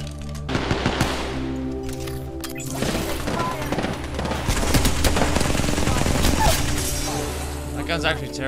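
Rapid automatic gunfire in a video game, a sustained loud rattling burst with crashing impacts, heard over music while a person talks.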